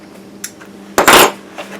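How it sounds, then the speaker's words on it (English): A staple is pried out of a dining room chair frame during reupholstery: a small click, then a short, loud metallic scrape and snap close by. "Pull this last staple out here."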